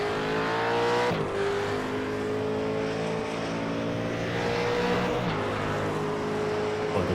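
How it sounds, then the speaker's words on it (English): A V8 Supercar engine drones steadily on a warm-up lap at Imola in a sim racing game, holding a loud, near, even tone with a brief gear-change dip early and another later. "Troy Sipple here on his warm-up lap, just getting himself the tyres up to temp, not asking too much of them"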